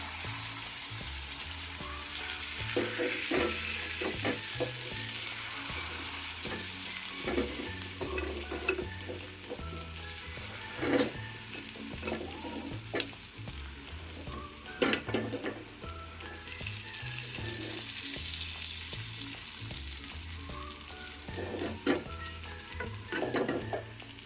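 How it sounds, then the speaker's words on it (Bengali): Egg batter for a roti sizzles steadily on a hot tawa as it is poured and spread around, with a continuous fry hiss and occasional soft scraping. "গোলাটা এই তাওয়ার মধ্যে ঢেলে দেব। এরপর আমি এটাকে চারিদিকে ছড়িয়ে নেব এইভাবে।"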